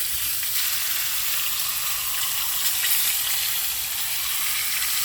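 Garlic and a Cornish hen fry in seasoned grease outdoors, giving a steady, loud, close sizzle with crackling hiss that holds evenly throughout, no voices.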